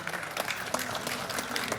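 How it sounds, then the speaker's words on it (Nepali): Applause from a gathering as a celebration cake is cut, a steady patter of many hands clapping at moderate volume throughout. "त्यताबाट ताली बज्छ।"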